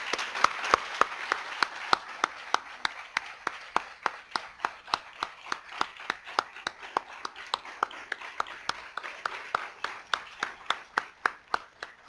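An audience standing to applaud at a church evangelism event, a long run of sharp, evenly spaced claps in a moderately reverberant hall, steady and sustained with no talk over it.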